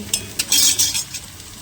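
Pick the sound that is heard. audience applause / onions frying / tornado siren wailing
onions frying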